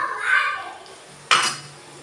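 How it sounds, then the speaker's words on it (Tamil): A metal ladle presses cooked lentils for sambar against the side of a cooking pot, giving a soft scraping sound followed by one sharp, close metallic clank. "நம்ம கரண்டி வச்சு இந்த மாதிரி பண்ணாலே நல்லா சாஃப்ட் ஆகிடும்"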